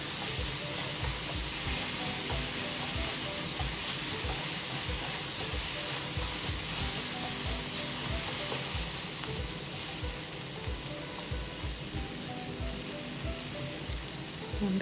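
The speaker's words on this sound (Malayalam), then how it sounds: "വെണ്ടയ്ക്ക നന്നായിട്ട് വഴറ്റണം." Finely chopped okra sautés in a pan for a curry, giving a dense, continuous sizzle and hiss with constant stirring underneath, close and steady throughout.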